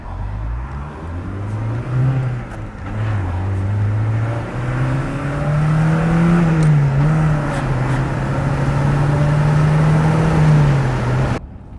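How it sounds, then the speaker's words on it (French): A Porsche 944 engine pulls steadily and loudly from inside the car, its tone climbing, dipping at a gear change, then rising again in a smooth sustained drone with no talking. "Même en accélérant bien et en titillant la jaune rouge, on sent que c'est dynamique"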